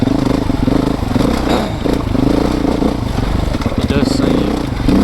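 A 2024 Beta 430RR dirt bike engine running while being ridden off-road, loud and close, a steady rough drone with small rises and falls in revs and mechanical clatter throughout.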